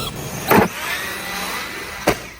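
A small motor of a Traxxas Sledge RC truck whines steadily, broken by two sharp plastic knocks of the chassis hitting the body, one early and one near the end.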